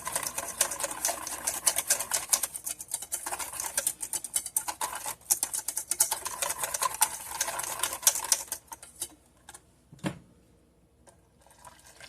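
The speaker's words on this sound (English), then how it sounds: "Mix that, whisk it in." A whisk beats vanilla custard mixture in a bowl with rapid, continuous clicking and scraping for about eight seconds, then stops, leaving a faint tap and near silence.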